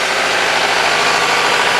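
An old car's engine idling at close range: a loud, steady mechanical drone with a faint rough pulse, running continuously with no voices.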